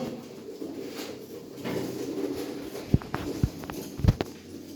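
Soft coos of Mardin pigeons murmur under a low ambient hum, with a few sharp knocks and flutters near the end.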